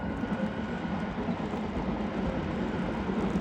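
A train passes close by, giving a steady, loud, broadband rumble that holds evenly throughout.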